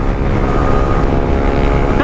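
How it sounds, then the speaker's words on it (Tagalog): Group ride of loud motorcycles with screamer exhausts, including a Yamaha R15, Raider 150 and KTM Duke 200, giving a dense continuous harmonic engine drone close to the microphone, with steady rumble throughout. "Puro screamer yung motor namin kasi isang Raider 150, KTM Duke 200, MG15 and Yamaha R50."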